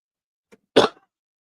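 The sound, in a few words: cough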